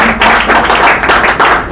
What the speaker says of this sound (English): Please have a big clap for him.